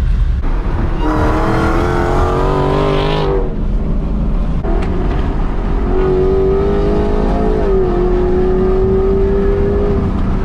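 A sports car engine revs hard while driving on a canyon road near Rainbow, California, loud and close, with rising pitch sweeps, a brief lull, then a steady high drone as it accelerates again.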